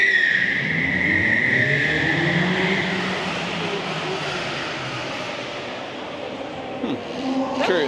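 A Hyundai car at an auto show pulls away with a broad, steady engine and road roar that holds loud for several seconds, then eases slightly as it moves off, with crowd ambience behind.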